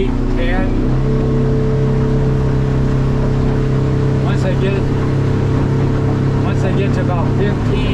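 A Stabicraft 2500 Ultracab's outboard motor roars steadily as the boat accelerates on the water, with a loud, constant engine drone and rushing water throughout, and a voice talking over it.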